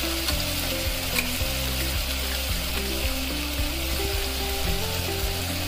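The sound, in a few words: spices frying with potatoes for green chilli khichdi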